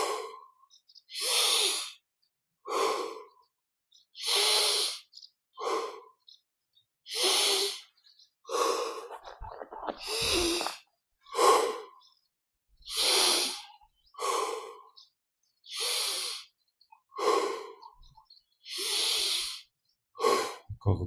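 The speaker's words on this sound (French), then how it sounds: "Expire par la bouche. 20 fois profondément." Slow, deep breaths drawn in and pushed out through the mouth during guided breathing meditation, close and clear, a steady rhythm of about a dozen airy inhale-exhale cycles separated by short silences, with no talking.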